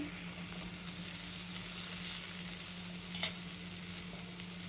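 A little oil sizzles in a pan as a quick wheat flour breakfast cooks, a soft, steady frying hiss with one brief louder crackle partway through.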